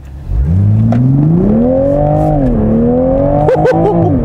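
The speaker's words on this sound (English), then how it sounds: "Oh, the way the six-cylinder sings" Toyota Supra 3.0 six-cylinder exhaust revving up from idle into a smooth, rising, sustained note, loud and close, with a couple of quick blips near the end.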